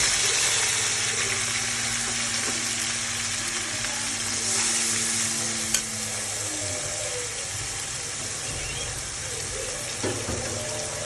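Ground spices, ginger-garlic paste, cumin, turmeric, salt and chili powder sizzle in a hot pan as the base for a drumstick curry. The frying hiss is loud, steady and close, with a few faint clinks and stirring scrapes and no talking.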